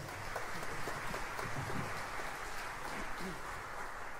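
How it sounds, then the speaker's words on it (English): A concert audience applauds a band at a Christmas concert, a soft, even wash of clapping that carries on throughout, quiet and somewhat distant. "would you please give them another round of applause?"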